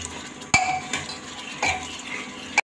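A spoon stirs masala for black chickpeas in a pan, giving a few scraping strokes with faint sizzling beneath, ending in a sharp clink against the rim.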